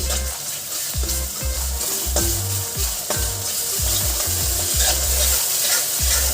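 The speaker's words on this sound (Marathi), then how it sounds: "आता कांदा आपला गोल्डन झाले याच्यात आपण लसूण मिर मिरची अद्रकची पेस्ट टाकून घेऊ" Onions sizzle and fry in a pan with garlic, chili and ginger paste while being stirred, steady loud crackling with repeated scraping knocks of a spoon, no talking.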